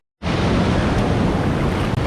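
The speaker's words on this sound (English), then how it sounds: "There's a lot of water coming down on both sides over here." Water pours down on both sides of a swimming-hole waterfall, a loud, steady broadband rush that starts abruptly and stays close and constant with no voices.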